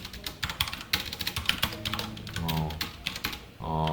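A computer keyboard clatters as Python code is typed during a lesson, with quick irregular keystrokes close by and a person speaking over the typing toward the end.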